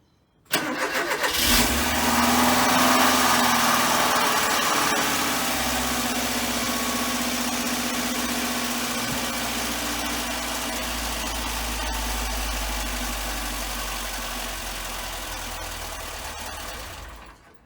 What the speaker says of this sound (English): hopefully you heard on camera that when the engine first started it was quite tappety, and then once away, that was the oil being pushed around